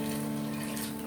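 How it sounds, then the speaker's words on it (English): Water, about one cup, pours steadily into a cooking pot holding macaroni with pepper, a brief continuous splashing rush heard up close. "Then we are going to pour water"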